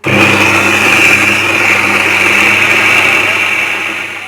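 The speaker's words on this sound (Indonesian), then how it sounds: "Nah, seperti ini kita blender ya moms ya, sebentar aja kita blender ya moms." A kitchen blender runs steadily, whirring loud and close as it grinds a kencur spice paste for stir-fried water spinach, its motor tone holding constant before easing slightly at the end.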